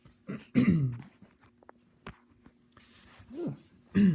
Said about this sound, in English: Sorry, guys, for all the coughing.